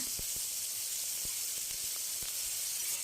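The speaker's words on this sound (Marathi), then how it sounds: "आता तेलामध्ये मस्तपैकी असं परतून घेऊया" Onion and tomato sauté in hot oil with ginger-garlic paste and curry leaves, giving a continuous soft hiss and sizzle with a few faint taps from a spatula in the pan.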